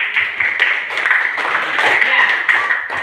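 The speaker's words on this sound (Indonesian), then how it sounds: "kasih tepuk tangan dulu deh buat teman kalian yang sudah menjawab" A class of students claps together in a classroom, a dense run of scattered hand claps lasting a few seconds with voices mixed in.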